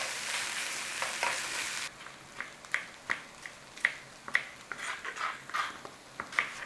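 Crumbled black pudding fries in a pan, a steady sizzle at first that gives way to sharp spits and pops over a softer hiss, close and fairly loud, with no talking.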